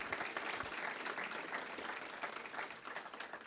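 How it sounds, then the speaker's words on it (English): Audience at a holiday kickoff event at a senior village applauding a doctor and her team, steady continuous clapping from a mid-sized crowd, moderately distant and even throughout. "I want us to give a round of applause to Dr. Barbara Williams and her incredible team."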